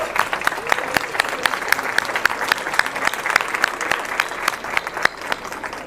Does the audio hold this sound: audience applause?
yes